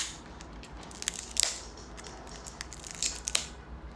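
A breakfast knife slits open a MongolZ package, making faint scratchy cuts and sharp crinkly snaps of plastic and paper in short, irregular bursts up close, with no talk.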